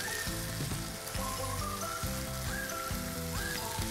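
Chopped onions and tomatoes sizzle and crackle as they fry in a pan for dal khichdi. The frying runs continuously and close, with rhythmic bursts from tossing or stirring and no talking.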